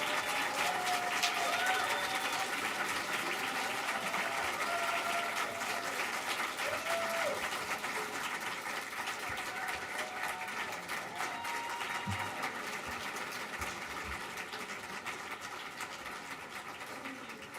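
An audience at a Board of Education regular meeting applauds in a steady, dense roar of clapping that runs throughout, slowly fading a little toward the end.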